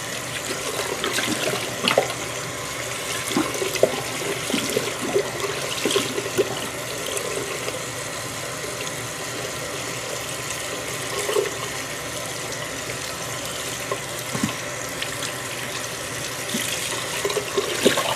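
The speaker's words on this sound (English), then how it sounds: "Turn the water on warm and just rinse the soap out and squeeze a little bit." Running tap water splashes continuously into a sink for a long stretch, with occasional small knocks and shifts as wool is rinsed and squeezed under the warm stream.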